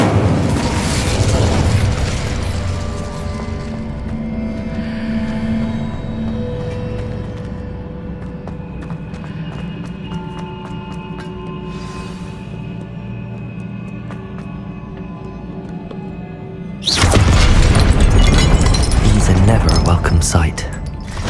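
Incendio fire spell cast in the video game Hogwarts Legacy: a loud roaring burst opens, a sustained layer of tones follows, and a second heavy whooshing blast erupts near the end.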